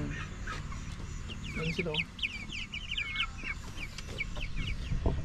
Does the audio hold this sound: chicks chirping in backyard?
yes